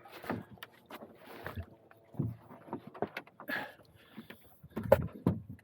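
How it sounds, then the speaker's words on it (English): A canoe shifting and bumping on the water at an island shoreline in Canada, with soft irregular knocks, scrapes and splashes at close range, quiet and intermittent. "Oh, don't push the canoe out."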